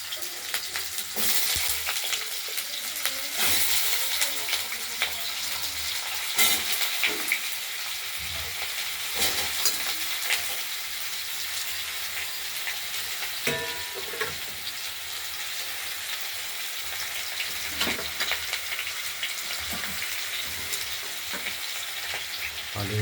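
Cut potatoes sizzle steadily in hot oil with cumin, bay leaf and dried red chilli, a continuous close frying hiss with occasional stirring scrapes and clicks, no voices.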